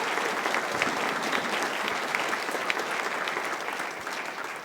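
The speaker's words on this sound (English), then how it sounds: "So a huge round of applause for the middle school teachers." Audience at a middle school honors music festival gives a sustained round of applause to the middle school teachers, a steady, even wash of many hands clapping in a large hall, slightly distant and unbroken throughout.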